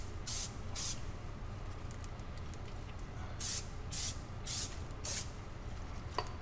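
Brake cleaner sprays onto car brake parts in a workshop in a series of sharp hissing bursts, two early and four later, over a steady low hum.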